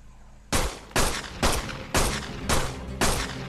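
Pistol fire in the video game Ark: seven loud, close shots spaced about half a second apart at a steady rhythm, each with a short decaying tail, and no talk.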